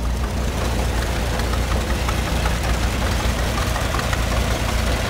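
A John Deere GP tractor engine runs steadily at an auction, a loud, close, continuous low chugging with a rough knocking texture and no talking over it.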